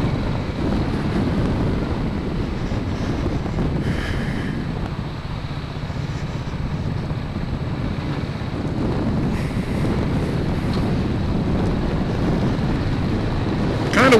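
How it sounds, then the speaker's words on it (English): Steady wind buffeting a microphone outdoors on a local loop ride, a constant loud rumbling roar filling the whole stretch with brief hissy gusts on top. "Kind of windy today, but that's okay."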